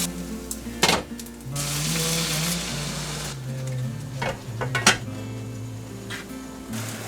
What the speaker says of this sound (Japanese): 両面に軽く焼き目がついたら蒸し焼きにします